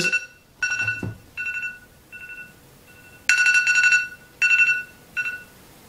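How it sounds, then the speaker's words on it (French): A phone alarm clock rings in repeated bursts of bright electronic tones, several short and long pulses separated by brief gaps, loud and close with no talking. "Il est 9h, c'était mon réveil pour pas oublier que j'avais la review d'Euro à faire."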